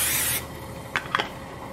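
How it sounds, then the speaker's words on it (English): A short hiss of cooking spray into a nonstick frying pan opens the clip, fading after a fraction of a second, followed by a few faint clicks and light handling noises. "And that's just a cooking spray."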